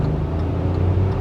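2020 Hyundai Venue iMT engine revving hard under full-throttle acceleration, a loud, steady, close-up droning whine filling the whole clip without talk.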